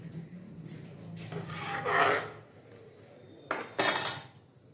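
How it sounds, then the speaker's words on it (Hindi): Bajra laddu mixture is worked by hand with syrup in a pot, giving soft rasping rubs and scrapes, then a couple of sharper metallic scrapes near the end, with no talking. "इसमें जो है शीरा डाल के फिर हाथ से मिलाएंगे"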